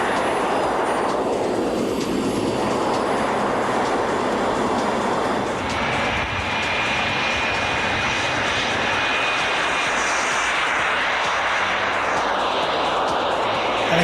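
A jet aircraft engine roars loud and close without a break, a broad steady blast that swells slightly as it goes, heard outdoors at an event on a windy, gusty day.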